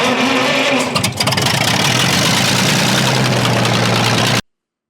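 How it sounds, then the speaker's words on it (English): A sawmill engine starts and runs steadily at a loud, even idle with a brief rough stumble near the start, then cuts off abruptly. "before Wayno starts cranking the engine"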